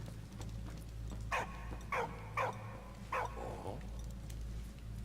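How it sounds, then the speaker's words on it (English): A dog in the video game Valiant Hearts: The Great War gives four short, sharp barks spaced about a second apart, moderately close over a steady low background hum. "Don't bark at me!"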